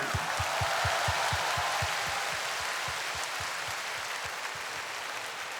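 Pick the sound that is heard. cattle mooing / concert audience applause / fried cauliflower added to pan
concert audience applause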